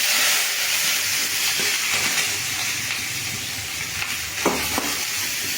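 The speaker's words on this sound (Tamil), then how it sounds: "தக்காளியில் அரிஞ்சு வச்சுருக்கோம் பாருங்கள். அது ஒரு வதக்கணும்." Chopped tomatoes sautéed in hot oil for a tomato kuzhambu give a steady, close hiss and sizzle, with a few soft spoon scrapes breaking through now and then.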